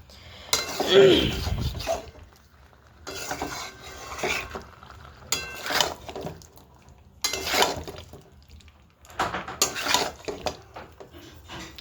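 New potatoes and spices, including Kashmiri chili powder, stir-fried in a pan, with repeated bursts of utensil scraping and clattering against the pan separated by brief quieter gaps.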